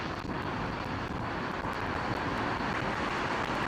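A jet airliner arrives on runway 27L at London Heathrow, its engine noise a steady, loud broadband roar that holds evenly through the clip with no talk.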